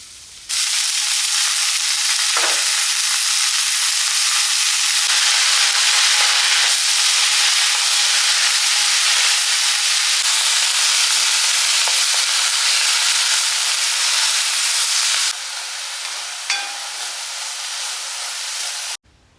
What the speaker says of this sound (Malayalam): കാബേജ് നുറുക്കിയത് അതാണ് ചേർത്ത് കൊടുക്കാം